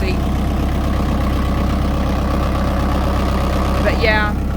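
A simple, basic farm tractor engine idles steadily up close, a loud continuous low rumble with an even pulsing beat, joined briefly near the end by a short higher whine.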